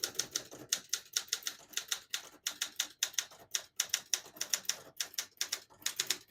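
A 1968 Olympia SM9 portable typewriter is typed on steadily, crisp rapid keystrokes clattering in uneven bursts with brief pauses, close and clear with no voices.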